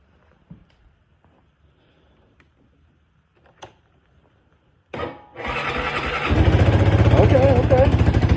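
A Honda off-road vehicle engine cold starting at 35 degrees: a few quiet clicks, then a cranking burst that catches and rises into a loud, rough close-up idle, with a voice speaking over it.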